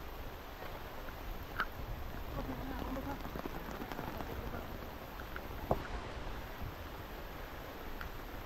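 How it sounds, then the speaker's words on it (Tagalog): Steady rain patters on a tarp close by at a lakeside campsite, a soft continuous hiss with occasional louder drops. "It's raining, man."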